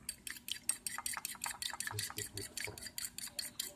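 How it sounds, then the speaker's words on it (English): A fork rapidly beats two cracked eggs in a bowl for an Indomie omelette, producing a quick, even run of light clicking taps against the bowl, close and quiet, with a few soft thuds. "we just gonna whisk it with fork"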